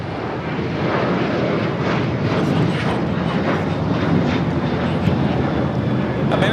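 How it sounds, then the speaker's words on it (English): An American Airlines Boeing 737-800 takes off from Los Angeles airport, a steady broadband jet engine roar that stays loud and even throughout, heard from a spotting position at a distance. "1437 taking off to Indianapolis on the 737-800."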